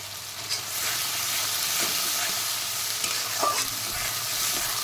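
Spice masala paste frying in a pan for a fish paturi dish, an even, steady sizzle with soft scraping and a few light clicks of stirring, close and loud.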